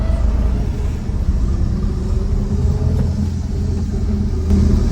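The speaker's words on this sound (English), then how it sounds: "just out here slipping clutches" A long-abandoned Squarebody Chevy C10 pickup's engine rumbles and surges as the clutch is slipped, a loud, close, low throaty drone with uneven swells of revving, heard outdoors at night with no talking.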